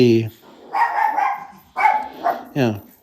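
Cassie, a pet dog, gives several short, sharp barks spread across a few seconds. The barks are close and fairly loud, with brief pauses between them.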